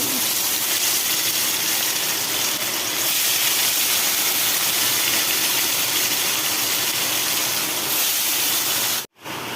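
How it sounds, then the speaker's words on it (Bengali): A pot of Bengali hilsa fish curry (ilish macher jhol) with slit green chillies coming to a boil in a home kitchen, giving a loud, steady hiss and sizzle that cuts off abruptly near the end. "মাছের ঝোল ফুটতে শুরু করেছে"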